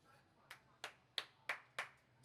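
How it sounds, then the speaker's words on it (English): Five separate hand claps ring out at a slow, even pace across about two seconds. Crisp and fairly close in a quiet room, with no talking. "Clapping it out."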